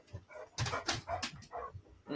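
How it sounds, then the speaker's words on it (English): A male pet dog barks and whimpers at night outdoors, a series of soft, muffled barks in an uneven rhythm, fairly faint with no talk. "what are you barking at, boy?"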